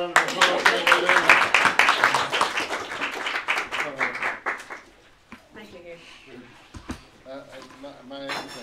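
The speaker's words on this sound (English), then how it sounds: "So another round of applause." Applause from an audience at a singing competition event rises as loud clapping close by, then thins out and fades while people talk over the tail end.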